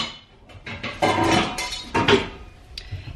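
Clattering and clinking of pots and pans as someone rummages through a kitchen for a big pan, several uneven knocks and scrapes at close range.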